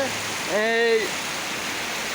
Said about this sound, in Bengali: এই মুহূর্তে দেখতে পাচ্ছেন প্রচুর কিন্তু বৃষ্টি হচ্ছে